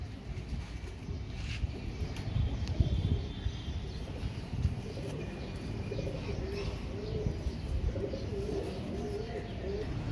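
Royal Teddy pigeons, a ringed breeding pair, coo in low, soft repeated phrases against a steady ambient hum, with faint chirps scattered through the background.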